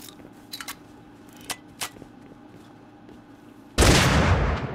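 Gunfire in Rust console edition: a few faint clicks and taps, then a sudden loud, close burst of shots that rings on for about a second.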